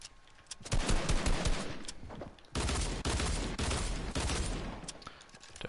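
Rapid gunfire in the battle royale video game Fortnite, heard as dense bursts of automatic shots that run almost without a break, loud and sustained, with a brief lull before another long volley.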